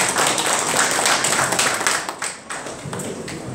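A crowd at an election campaign launch rally claps in a dense, sustained burst of applause that fills the whole stretch, easing slightly partway through before continuing.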